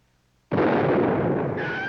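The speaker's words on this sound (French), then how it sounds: "Dorothée, ce coup de feu est-il venu réellement de cette direction?" A single loud gunshot bursts out of silence, followed by a sustained roaring echo that slowly fades.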